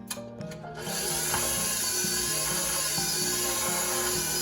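An electric mixer beats an egg into creamed butter for a St. Louis gooey butter cake, starting after a few soft knocks into a steady, moderately quiet motor whir that wavers slightly in pitch.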